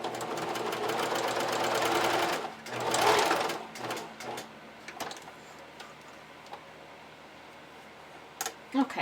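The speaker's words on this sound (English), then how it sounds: "I'm just going to serge those edges" A serger overlocks the edges of ruffled panties, running in a steady loud mechanical whir for a couple of seconds, pausing, then a second short burst, followed by quieter handling and a few faint clicks.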